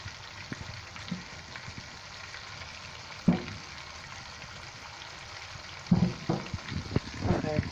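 Battered meat frying in grease in a pan, a steady soft sizzle throughout with a sharp clatter near the middle and louder knocks and stirring noises toward the end.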